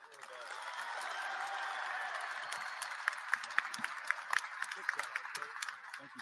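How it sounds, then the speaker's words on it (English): An audience applauds at the introductory press conference for Alabama A&M's new head football coach, a soft steady patter of clapping that thins into scattered sharper claps toward the end. "Clap for him like you like him, not like you're mad at him."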